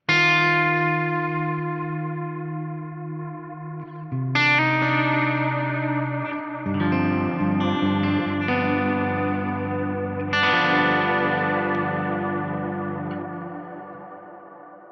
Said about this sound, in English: It's the Plex reverb. This is probably my favorite reverb style sound in the 3.